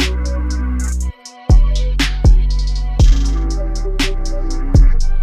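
Closing section of a hip-hop beat produced in FL Studio: loud, dense layered synths and heavy bass with punchy hits every second or so, a brief drop to near silence just after the first second, then the full groove returns.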